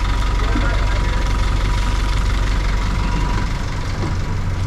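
A boat engine idles steadily with a low rumble, its exhaust gurgling and burping irregularly underneath.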